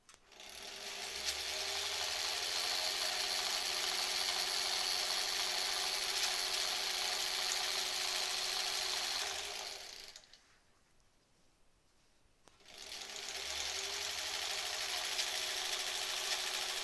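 A sewing machine runs in long, fast stitching bursts while face masks are sewn, a dense steady whir that stops for about two seconds of near silence and then starts up again, with no talk over it.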